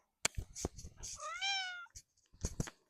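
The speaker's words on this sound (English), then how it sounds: "my cat's here." A single drawn-out cat meow, close and clear, bracketed by bursts of clicking and handling noises before and after.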